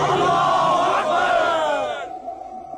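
A large crowd in a KGF 2 movie scene answers the Nara-e-Takbir chant with one loud, united battle-cry roar. It swells for about two seconds, then fades fast.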